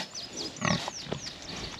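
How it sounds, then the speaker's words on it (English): Pigs on a farm give short grunts and squeals in a damp, muddy pen. The calls come close by in a quick irregular cluster near the middle, with a few high squeals over a quiet outdoor background. "Pigs are enjoying it."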